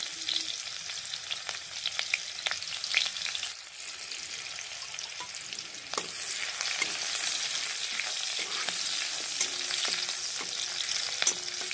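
Chopped onion frying in a pan on a home stove for a Hindi dinner recipe: a continuous close sizzle with occasional stirring scrapes and clinks, steady and moderately loud, no voices.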